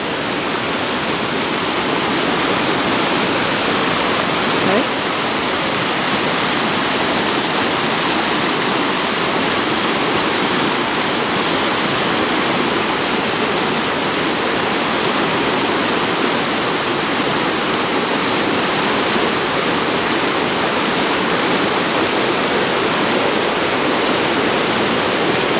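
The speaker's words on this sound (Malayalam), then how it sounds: "ഇതാണ് പുഴ, വലിയ പുഴയാണ്" A large river running low over its bed, heard from within the water as a loud, steady, broadband rush of flowing current that holds evenly throughout with no voices.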